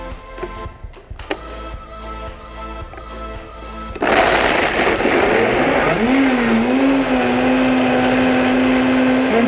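A Vitamix blender runs alone and loud after some clicks and a brief lower whir, then surges into a steady, high-pitched motor roar whose tone rises and settles as it keeps spinning.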